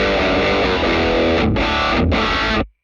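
An electric guitar through a Friedman BE-OD Deluxe distortion pedal rings out a heavily distorted chord, thick and loud, cut twice by brief gaps before stopping abruptly.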